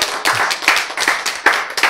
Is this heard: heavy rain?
no